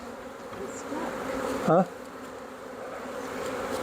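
Swarming honeybees buzz around a hive box as a steady drone, with a single short voiced interjection midway.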